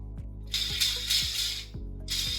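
Gray 3D-printed clicker toy clicking, a run of sharp repeated clicks at a quick, slightly uneven pace, mixed with breathy hissing bursts, close and without talk.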